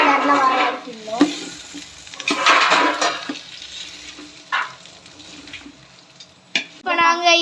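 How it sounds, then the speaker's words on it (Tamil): Onions fry for dum biryani while being stirred, scraping and sizzling in uneven bursts, with voices speaking intermittently over the cooking. "இப்போ இதை கிண்டணும். நல்லா ஒரு ப்ரௌன் கலர்ல வர வரைக்கும்."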